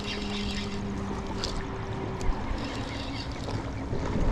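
A motorized fishing kayak cruises on open water with a steady low motor hum, water and wind noise, and a faint tonal whine that fades partway through.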